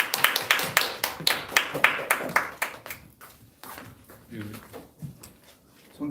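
A church congregation at a revival meeting in Ulsan claps together in a lively, steady rhythm to welcome the pastor, the sharp claps fading out after about three seconds as a voice begins speaking.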